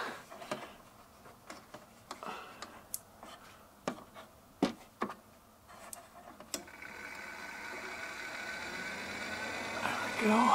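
A Fantastic Fan roof vent fan, freshly cleaned and lubricated, starts after a series of sharp clicks and taps, then spins up into a steady, rising whoosh that grows louder toward the end, with a voice briefly heard.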